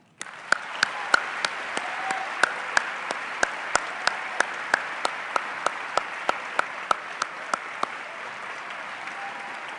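An audience applauds warmly to welcome author Yann Martel at a humanities lecture, steady clapping from a full room with a few sharp, close claps standing out over the crowd.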